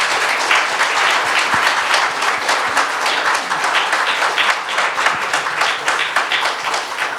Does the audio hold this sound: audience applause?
yes